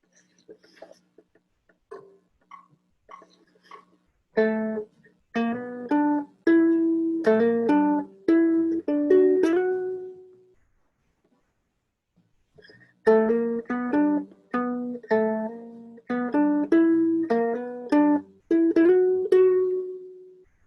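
A short melodic instrumental riff from an iReal Pro backing track, bright plucked or keyed notes, plays twice, separated by a pause of near-silence, each phrase ending on a held chord.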